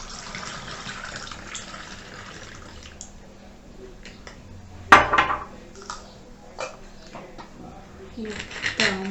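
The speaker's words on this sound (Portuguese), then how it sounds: "Por último, agora coloca a água." Water poured into a bottle holding fermentation ingredients and yeast for a home experiment, a sudden splashing gush midway through followed by gurgling trickles, fairly quiet in a small room.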